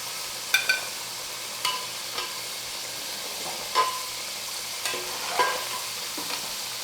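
Mutton pieces fry golden in a pan for yakhni pulao, a soft steady sizzle broken by light clinks and scrapes of stirring, quiet and close with no talking.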